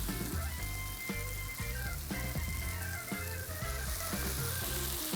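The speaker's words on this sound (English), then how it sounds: "Let this saute for just a couple more seconds" Marinated flap steak sautéing in a hot cast iron skillet, a steady dense sizzle and crackle running unbroken throughout, with a rhythmic low thumping backing beat underneath.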